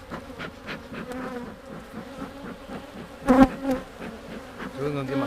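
Agitated honey bees buzz loudly at an opened hive during a vertical split, a dense swarming drone with a sharp, louder burst midway and a few close passes near the end.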